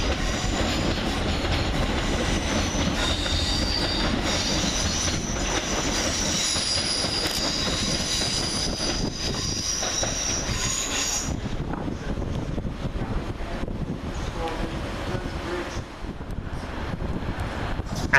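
A Southern Railway electric multiple-unit train rolls loudly and steadily through Three Bridges station, a continuous roar of wheels with clickety-clack and squealing, plus wind rush that thins toward the end.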